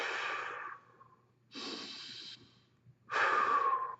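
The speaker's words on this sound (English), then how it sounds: "And then take 2 breaths." Three deep, slow breaths close to the microphone during a foot stretch, each a soft airy rush lasting under a second with quiet gaps between, the last one strongest.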